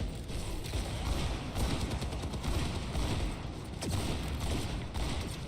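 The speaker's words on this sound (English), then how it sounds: "Now just gunfire happening from across the bridge here" Continuous Overwatch 2 gunfire during an esports match, dense bursts of automatic shots layered with distant pops and booms, steady and fairly loud throughout.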